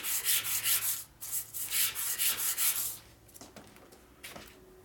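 Worn 220-grit sandpaper is rubbed by hand over a 1947 Harley-Davidson EL Knucklehead 74ci engine part in a machining repair, making steady, rhythmic rasping strokes for about three seconds before fading to quieter, sparse scrapes.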